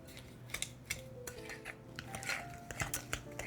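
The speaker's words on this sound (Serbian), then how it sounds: "Meni je puno lakše i jednostavnije da viljuškom izmešam putar sa šećerom" Butter being mixed with sugar using a fork in a bowl, soft repeated scraping and tapping strokes at a fairly quiet level, no speech.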